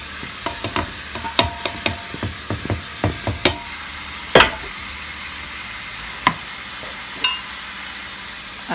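Cabbage added in batches to hot palm oil for native jollof rice, stirred with a spoon in quick scraping strokes over soft sizzling, close by, then a few sparser clanks as the stirring slows.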